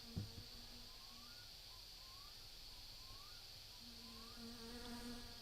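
A wasp buzzing in a farmhouse attic in the game My Summer Car, a faint, wavering drone that rises and falls in pitch under a steady electrical hum, with a brief thump near the start.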